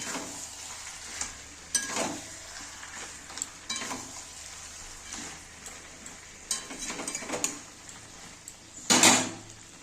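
Mutton and fried potatoes stirred together in a pan for a Bengali-style aloo mutton kosha, with a steady sizzle under repeated scraping strokes of a spatula and a louder clatter near the end.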